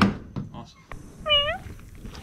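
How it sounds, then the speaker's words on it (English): A single short, high, bending meow from a pregnant cat, fairly close, rising above faint outdoor background noise with a few soft thumps before it. "Hi, kitty cat."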